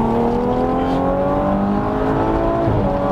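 An Audi RS5 accelerates and drives, its engine a loud, steady rising drone heard from inside the car, with the pitch climbing smoothly before a brief shift near the end.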